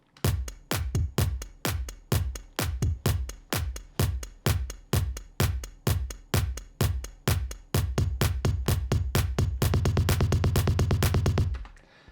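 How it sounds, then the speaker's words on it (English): Electronic drum beat with an added clap, punchy kicks and claps in a steady four-on-the-floor pattern that speeds into a rapid roll building toward a drop, loud and alone with no talking. "With the clap, it sounds something like this."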